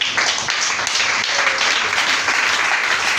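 A church congregation breaks into steady, dense applause during a worship service, clapping continuously and fairly loud from start to finish with a faint voice now and then.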